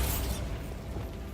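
A Bombarda spell explodes in the Hogwarts Legacy video game: a single short, loud blast that bursts at once and thins into a brief rumbling tail.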